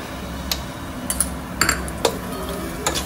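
Sweet potato halwa is stirred in a pan with ghee, cardamom powder and grated nutmeg, giving sparse close clinks and scrapes of a spoon against metal over a quiet background.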